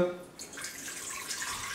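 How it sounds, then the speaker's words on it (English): Water poured into a bowl for focaccia genovese dough, a brief close splash and trickle that settles into a steady light pour without talk. "So 200 grams of water. I'm gonna pour here"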